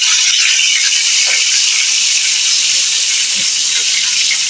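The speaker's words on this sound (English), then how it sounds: "We start with frying the fish" Loud, steady sizzling hiss of fish frying in hot oil, continuous and close, with faint crackles underneath.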